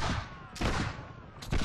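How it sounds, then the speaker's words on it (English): Two heavy shots from a double-barreled carbine in Mount & Blade: With Fire & Sword, each a loud blast with a decaying tail, spaced about a second apart and heard alone. "this is double-barreled. So I've got two nice shots."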